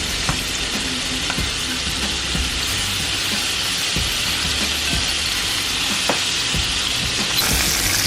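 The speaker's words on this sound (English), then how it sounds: "My shrimp is cooking right there." Shrimp sizzling in a hot pan, a loud continuous frying hiss broken by scattered clicks and taps of a utensil, close and steady throughout.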